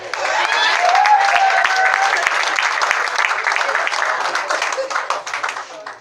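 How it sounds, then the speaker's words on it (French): An audience at a French-speaking gathering breaks into loud applause, a dense burst of many hands clapping close by that stays steady and then thins out toward the end. "on applaudit pour la marée."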